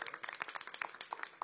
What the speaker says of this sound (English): I think we should give him another round of applause.